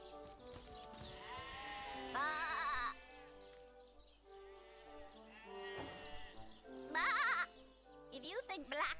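Sheep in the video game Divinity Original Sin bleat several times in wavering, nasal calls, loudest around the middle and end, over quiet game ambience with a voice-like murmur underneath.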